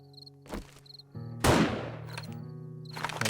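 A single loud, close gunshot from the survival video game 7 Days to Die, sharp crack with a lingering decay, amid game ambience with chirping insects and a few softer thumps.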